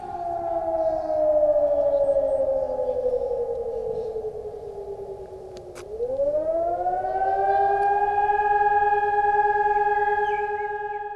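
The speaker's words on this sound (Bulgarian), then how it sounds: "Точно в 12 часа присъстващите замръзнаха под звуците на сирените." Civil defense sirens wail at noon on Botev Day in Bulgaria, a loud sustained rising-and-falling tone that dips low near the middle then swells back up, carrying alone with no talk.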